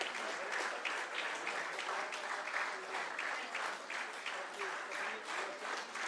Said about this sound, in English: Division of Genetics, give them a huge round of applause.